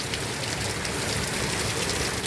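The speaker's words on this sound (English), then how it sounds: "that rain is freezing" Steady rain pours down, a dense hiss of drops pattering on a surface, close and continuous with no voices.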